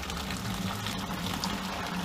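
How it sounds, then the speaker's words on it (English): A steady, hissing rush of boiling water is poured into an empty plastic brewing bucket for an extract beer, with the stream running continuously at moderate level and no talking. "I'm going to now pour 2 liters of boiling water in there."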